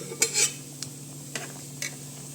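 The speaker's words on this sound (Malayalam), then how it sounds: "അതാ നമ്മുടെ ബീഫൊക്കെ ഒരുവിധം റോസ്റ്റായി വരുന്നുണ്ട്" Spicy beef roast in a homemade masala is stirred in a pan. A few sharp scraping clinks of a utensil against the metal sound over a faint, steady sizzle.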